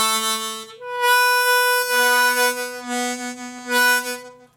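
Harmonica octaves played with a tongue block, alternating blow and draw notes: sustained reedy chords with strong harmonics, several held notes in succession, close and fairly loud with no voices.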